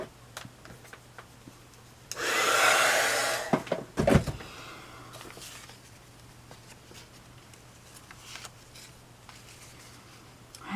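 A hair dryer blows on paper for a traveler's notebook with maps, a steady whooshing roar lasting about two seconds amid light tapping and handling sounds, then quieter rustling.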